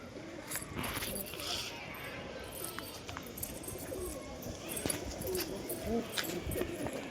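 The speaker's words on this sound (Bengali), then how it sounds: "এগুলো কালদম কবুতর, আমার ওড়ানো কবুতর না, এগুলো বাচ্চা করার জন্য আনা কালদম কবুতরগুলো।" Kaldam pigeons kept for breeding on a pigeon farm coo softly in a low, rolling murmur against a steady background hum, fairly faint and continuous, with scattered rustles and brief sharper sounds.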